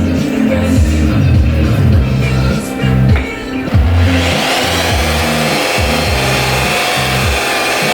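A power polisher with a purple pad buffs the barrel of an American Force aluminum wheel, a loud, steady whirring rub with a brief dip in the middle before it presses on.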